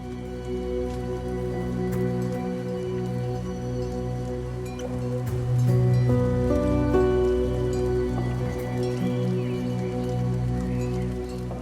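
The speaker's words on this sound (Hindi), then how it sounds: "बूंदाबांदी" Light drizzle patters steadily on surfaces in a hilly rural setting, a soft continuous hiss of fine drops with a constant low hum underneath and no talking.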